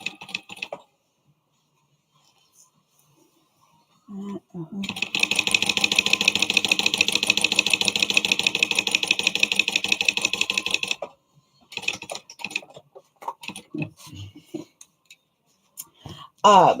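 A sewing machine stitches a zip around a wallet in one steady, rapid, buzzing run of about six seconds, followed by shorter start-stop bursts, close and loud, with someone talking before it.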